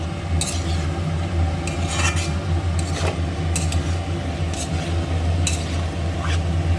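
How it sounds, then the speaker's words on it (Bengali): A spatula stirs jujube pickle with ground spice in a pan, making repeated close scraping and clinking strokes over a steady low background hum, with no voices. "খুন্তির সাহায্যে কিন্তু নাড়াচাড়া করে তারপরে কিন্তু স্টপ করতে হবে"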